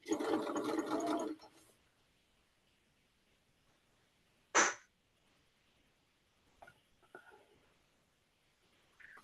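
A sewing machine runs in a short, loud burst at the start during a quilting and crafts group call, then stops, leaving near silence with a few faint knocks and clicks.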